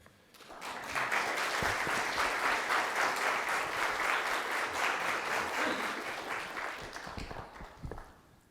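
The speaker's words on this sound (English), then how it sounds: "I'd like the board members to stand up for a big applause." Audience applause rises quickly and holds steady as board members stand at a storage technology investment event, a dense sustained wash of clapping that fades near the end.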